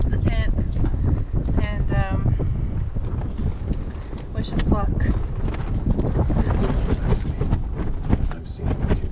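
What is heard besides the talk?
wind blowing at a lakeside campsite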